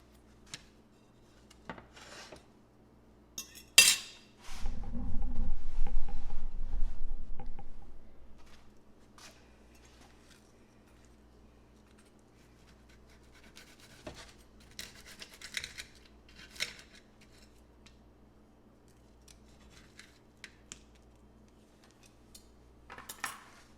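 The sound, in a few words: cutting green scallion pancakes into triangles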